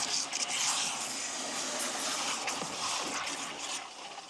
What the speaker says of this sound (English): So we fill the bucket.